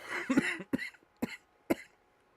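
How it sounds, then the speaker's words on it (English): Four close, harsh coughs in a row, spaced about half a second apart, loud against near silence. "Sorry for coughing in the mic."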